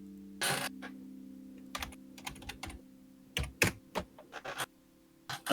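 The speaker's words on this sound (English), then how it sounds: "People will be able to tell what keys I'm striking just for the sound." Keys struck on a computer keyboard in short irregular bursts of clicks, close and fairly loud, with pauses between runs and a steady low hum underneath.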